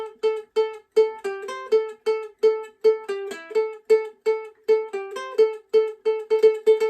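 A ukulele plucks a quick, repeating melody of bright notes in a steady, driving rhythm, played alone and close with no voices.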